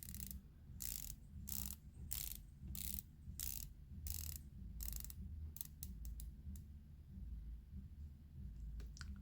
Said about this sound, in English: show you guys the bezel action real quick